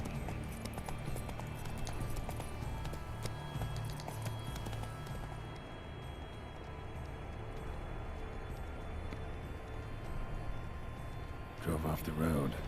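Geralt's horse Roach galloping in The Witcher 3: Blood and Wine, a steady, rapid clip-clop of hooves running continuously under ambient music, with a voice speaking briefly over it.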